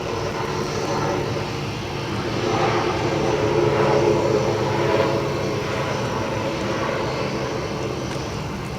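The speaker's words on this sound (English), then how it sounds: "And Jetstar heading along to the incredible runway 14." A Jetstar airliner rolls along runway 14 at Gold Coast Airport, its engines giving a steady, loud roar that swells slightly midway, with no voices.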